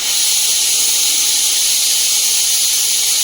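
A pressure cooker boiling tomato and masoor lentils lets off a loud, continuous hiss of escaping steam, steady and unbroken throughout, with no voices.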